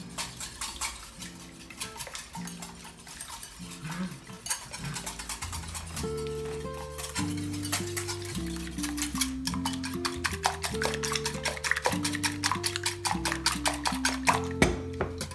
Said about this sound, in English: So I'm going to really beat this so that we don't see any more mixture or any streaks of the egg whites in there